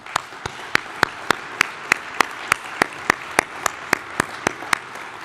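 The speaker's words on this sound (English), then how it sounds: "So one more round of applause for AECOM." A steady, evenly spaced run of about eighteen sharp claps at an opening ceremony for the CSCE 2012 conference, given as a round of applause for AECOM. It sounds fairly close over a quiet room hush.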